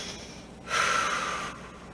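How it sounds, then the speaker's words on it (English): One deep breath is drawn during a family yoga class in a library, an airy inhale lasting about a second over a quiet room. "Take a deep breath here."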